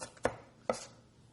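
A knife chops cucumber on a cutting board: two crisp, close chops about half a second apart over quiet background.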